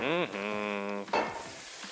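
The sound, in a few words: mushrooms frying in a hot pan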